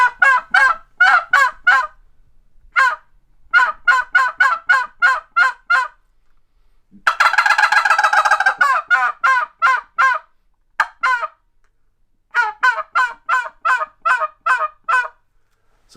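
A hunter's tube call imitates a hen turkey with loud, close, goose-like honking yelps, delivered in rapid runs of repeated notes separated by short pauses, including one dense, raspier burst midway.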